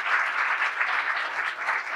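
An audience at a company's quarterly event gives a short burst of even, steady applause. It sounds full and close and continues without pause.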